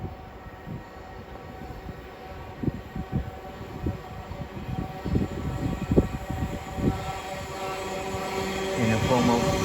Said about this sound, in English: Soon to pass through now will be a Elizabeth line service passing from London Liverpool Street to Gideon Park,